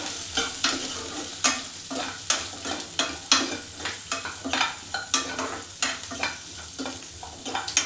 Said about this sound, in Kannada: ನೀಟಾಗಿ ಇದನ್ನು ಫ್ರೈ ಮಾಡ್ಕೊಳ್ಳೋಣ.